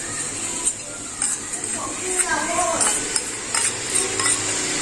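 Onions sizzle in a pan while a utensil stirs and scrapes, giving scattered clicks and short bursts over the steady frying.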